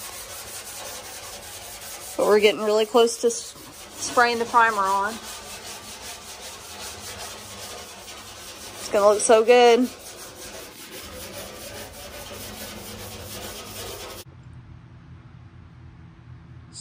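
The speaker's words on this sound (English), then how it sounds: "We're just finishing up some last minute sanding," Wood being sanded by hand in a garage, a steady rubbing scrape running under most of the stretch, with short bursts of nearby talk over it before the noise cuts off near the end.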